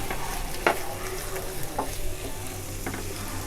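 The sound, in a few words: prawns stir-frying with pepper masala in a pan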